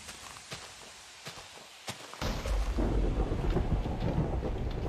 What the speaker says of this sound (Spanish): Cuidado que la tormenta está fea.